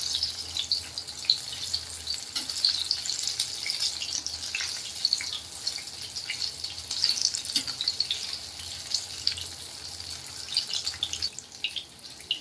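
Gilki bhaji, ridge gourd fritters, deep fry in hot oil with a dense, continuous close sizzle and scattered pops, steady throughout with no voices.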